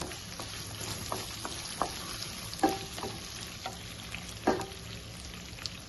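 Chopped onions and green chillies fry in a pan with a low continuous sizzle, broken by a few sharper spatters and stirring clinks, fairly faint and steady.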